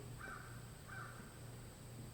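A crow caws twice outdoors, two harsh, fairly distant calls about a second apart over a faint steady background hiss.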